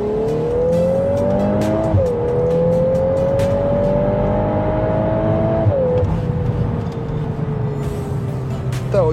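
A Volkswagen Golf 8R with 420 horsepower in drift mode revs hard, its engine note climbing in two long sustained pulls with a brief gear change between them, loud and close throughout.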